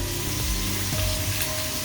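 Onions fry in a hot pan with a steady, close sizzling hiss that continues evenly through a couple of seconds, with no voices.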